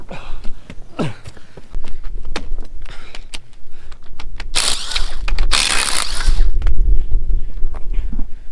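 A van being raised on a jack during a wheel change, heard as intermittent mechanical clicks, creaks and ratcheting with a rising whine and metallic rattles, close by and fairly loud.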